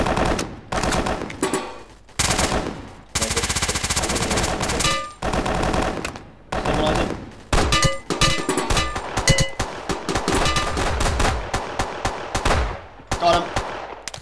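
Rapid automatic gunfire in a Haze online video game pub event, loud bursts of machine-gun fire in long and short volleys separated by brief pauses, with faint voices underneath.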